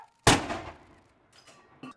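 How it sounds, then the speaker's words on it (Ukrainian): A single sharp, booming blast with a decaying rumble, followed by fainter distant thuds, a ceremonial 21-gun cannon salute fired from the walls of an old Scottish fortress. "Зі стін старовинної шотландської фортеці гармати вистрілили 21 раз."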